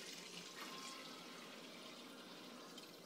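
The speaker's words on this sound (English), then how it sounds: "Greg's going to go ahead and just gently pour this in to our primary fermenter" Beer wort pours gently and steadily into a primary fermenter during home brewing, a faint, continuous watery rush with no voices.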